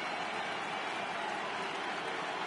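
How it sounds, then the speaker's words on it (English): A stadium crowd in MLB The Show 18 cheers at a Yankees home playoff game against the Astros, a steady, loud wash of applause and cheering that fills the whole stretch without a break. "The crowd is ready to erupt as their guys get set to take the field"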